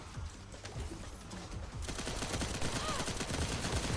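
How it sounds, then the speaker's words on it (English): Gunfire in the video game The First Descendant, aimed at a Specialized Vulgus aircraft that has landed to resupply. After a quieter start it becomes a dense, continuous stream of rapid shots, loud and close, with game sounds mixed in. "Specialized Vulgus aircraft has stopped to resupply. It's defenseless. Shoot it down."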